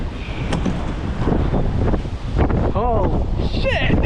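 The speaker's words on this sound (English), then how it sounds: "This wind." Strong wind buffets a microphone on the water during kayak fishing in rough conditions, a loud continuous rumble with gusting surges, while people talk and shout over it.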